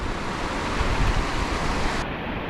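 Wind gusting at a shoreline while fishing, a loud steady roar of wind and surf that fills the clip with no voices.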